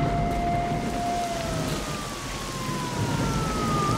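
A wailing siren glides slowly downward in pitch in S.T.A.L.K.E.R. Shadow of Chernobyl, sounding from a distance over a constant wash of rain during a thunderstorm.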